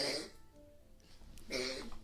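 Two fairly quiet coughs, or throat-clearings, come from a person in a chilly room, one at the start and another about a second and a half later, with soft breathing between.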